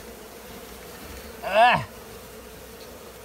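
Bees buzzing inside a house attic, a single loud close buzz swelling for a moment over a low steady hum, with a person exclaiming as it passes.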